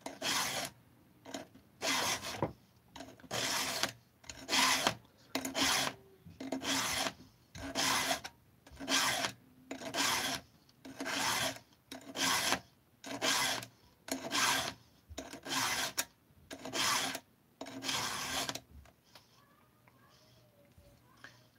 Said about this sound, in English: They do not make that grinder anymore.